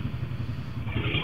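Busy crowd of motorcycles at a concert venue at the Jakarta fair, a steady close engine rumble and clatter with revving swelling toward the end.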